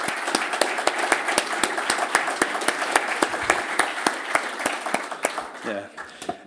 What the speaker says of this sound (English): I'd just like to take this moment to propose a round of applause for everyone in this room